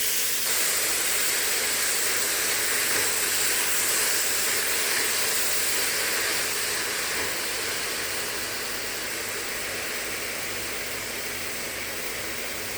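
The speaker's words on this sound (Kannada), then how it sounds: "ಸ್ವಲ್ಪ ಚೆನ್ನಾಗಿ ಒಗ್ಗರಣೆಯಲ್ಲಿ ಬಾಡಿಸ್ಕೋಬೇಕು, ಸ್ವಲ್ಪ ಹಸಿ ವಾಸನೆ ಹೋಗೋವರೆಗೂ" Fenugreek leaves frying in a tempering of hot oil give a steady, close sizzling hiss that runs unbroken for about thirteen seconds and eases slightly toward the end.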